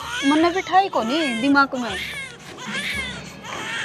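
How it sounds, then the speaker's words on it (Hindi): A baby cries in wavering, rising and falling wails, loud and close, while an adult speaks over the crying. "बालक रोने की आवाज आओ है।"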